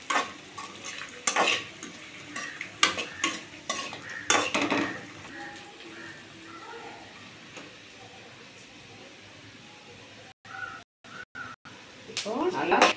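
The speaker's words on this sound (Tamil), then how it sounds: "மூணையும் நல்லா வதக்கணும்." Ingredients including tamarind are sautéed in a pan with repeated stirring. Scraping and clattering bursts come in clusters over a low sizzle, then quieter stretches with brief gaps.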